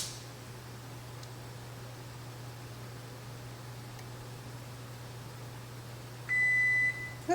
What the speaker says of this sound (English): Oh, that's my timer still going off.